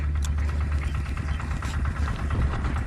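A motorcycle engine idles nearby with a steady low rumble and faint rhythmic knocking, running continuously without pauses at a fishing spot.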